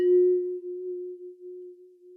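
One sustained note rings from a water bowl instrument, a clean, pure tone with a brief bright attack that fades fast, holding nearly steady with a slight pitch drift; it is heard alone with no effects.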